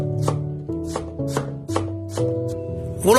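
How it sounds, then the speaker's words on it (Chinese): A knife chops a carrot finely on a board, with about six crisp, evenly spaced chops heard close up and alone. "再改刀把胡萝卜切成末就可以了"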